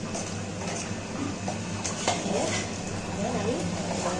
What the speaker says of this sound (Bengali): এইবার এর মধ্যে অল্প পরিমাণ জল তুলে নিয়ে ভালো করে মিশিয়ে দেবো।